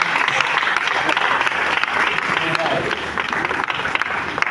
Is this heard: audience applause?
yes